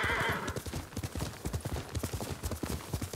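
A horse in the Ghost of Tsushima video game whinnies briefly at the start, followed by a quick, rhythmic clip-clop of hooves at close range, moderately faint and with no talk.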